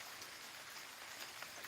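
Faint, steady rainfall heard from under a shelter, a soft continuous hiss with no distinct drops or voices, low and even throughout.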